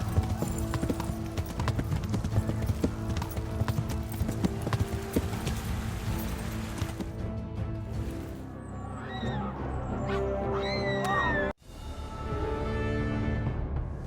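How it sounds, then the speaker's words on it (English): Horse hooves clip-clop steadily as a horse is ridden, a dense run of sharp close hoofbeats that gives way to whinnying and bird-like calls, followed by a brief dropout. "Come on, how do you get on the horse?"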